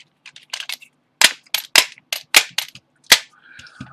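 Rapid shots from a WinGun 2.5 inch revolver firing 6mm BBs, about ten sharp cracks in quick irregular succession, loud and close, then a short rattle, with no talking.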